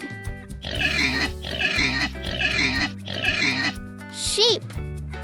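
A pig oinks and grunts in four repeated loud, close bursts, ending with a higher squeal.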